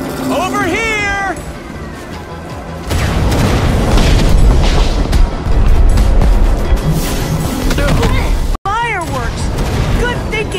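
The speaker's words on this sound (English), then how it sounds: "Fireworks!" Fireworks burst in Minecraft: Story Mode during a fight with the Wither Storm, a dense run of booms and crackles over a loud game score, with whistling cries at the start and end and a brief dropout near the end.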